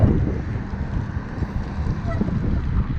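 Wind buffets the microphone during a ride in Kuwait, a continuous low rumbling roar that rises and falls, with talk faintly beneath it.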